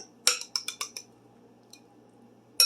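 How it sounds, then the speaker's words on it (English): An egg mixture is whisked in a bowl, a quick series of five or six sharp metallic clinks, then quiet, with a single faint tap and a final clink at the end. "You're going to take your egg mixture, just whisk it a little more"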